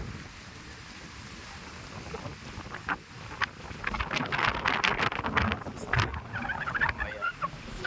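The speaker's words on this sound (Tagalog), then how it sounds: "Talagang ang lakas ng hangin." Gusty wind buffets the microphone in a steady low roar in El Nido, Palawan, Philippines, rising in stronger blasts partway through, with faint outdoor sounds under it and no talking.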